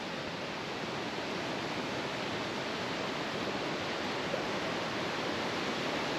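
A swollen monsoon river rushes past a riverside homestay in Bijanbari, Darjeeling, making a steady, broadband roar of churning water that holds unchanged and uninterrupted throughout.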